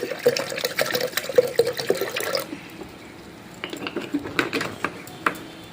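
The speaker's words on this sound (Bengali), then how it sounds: "এবার সিদ্ধ ডালের মধ্যে জল দিয়ে দিলাম।" Water splashes and trickles into a pot of boiled lentils for a Bengali fish dal, close and steady at first, then thinner splashes and clinks of a utensil, with no talk.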